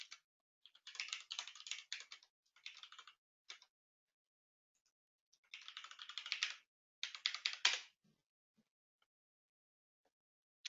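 Keys clattering on a computer keyboard as a username and password are typed, in several quick bursts of close, crisp taps separated by short pauses.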